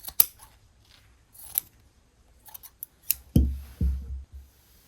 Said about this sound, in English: I'm just going to slice the pocket out